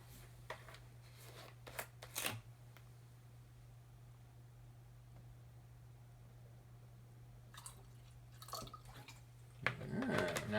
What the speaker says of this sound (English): Let's add some ammonia.